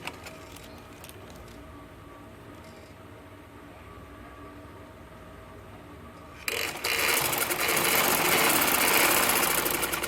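A sewing machine runs a double line of stitching along a shalwar waistband, starting abruptly after several seconds of quiet room noise and then whirring loudly and steadily to the end.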